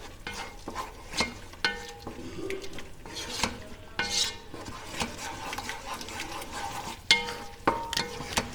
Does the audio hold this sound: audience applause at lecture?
no